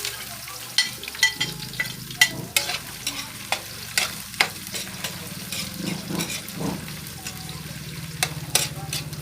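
Ginger tossed into garlic and onion already frying in a pan, giving a steady close sizzle broken by repeated scraping stirs and light clinks of a utensil, with no talking.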